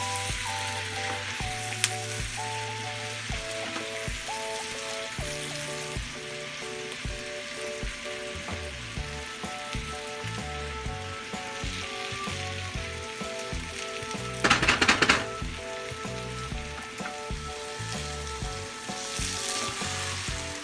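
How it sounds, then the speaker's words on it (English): Onions sauté in olive oil with turmeric for an Irish stew, a soft, even sizzle held at low level under tonal background music, with a brief louder burst of crackling partway through. "You saute the onions until they're golden and then you add the mushrooms."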